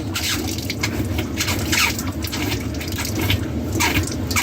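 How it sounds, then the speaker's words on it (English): The last water drains out of an RV tank, a continuous close splashing and trickling with small gurgling surges, steady in level and free of speech. "let's get that last little bit out of the tank"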